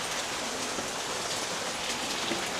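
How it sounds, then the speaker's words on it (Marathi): Heavy monsoon rain pours down just outside a house, a dense, even roar of drops with no pause and no voices. "बाहेर आहे ना आता पाऊस सुरू झालेला आहे आणि एकदम जोरदार पाऊस आहे"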